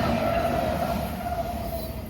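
A CSX freight train rolls past on the main line at Berea, Ohio, with a loud, steady rumble, a sustained metallic tone and wheel noise. No one speaks.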